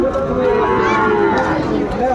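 A young Sahiwal bull calf lets out a loud, drawn-out moo close by at a cattle market, one continuous low bellow lasting a couple of seconds.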